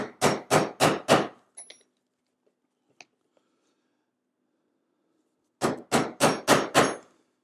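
Stitching chisel struck with a mallet through leather for a wallet: two bursts of four sharp, loud hammer blows in quick even rhythm, separated by a quiet gap with a few faint taps.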